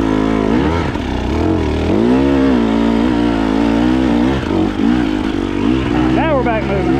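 A KTM 250XCW dirt bike engine straining and revving on a rough trail, loud and continuous with rising and falling pitch, mixed with talking throughout.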